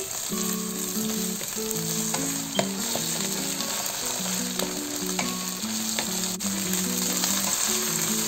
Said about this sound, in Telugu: ఇప్పుడు మనము జింజర్ గార్లిక్ పేస్ట్ యాడ్ చేసుకున్నాము ఒక టేబుల్ స్పూన్ వేసుకోవాలి కొద్దిగా ఫ్రై చేసుకోవాలి